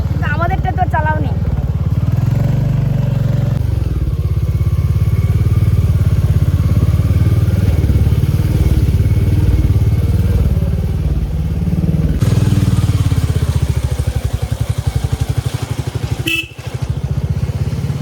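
A motorcycle rides along steadily with a continuous mid engine drone and occasional clattering thumps, close and loud, while people talk over it throughout.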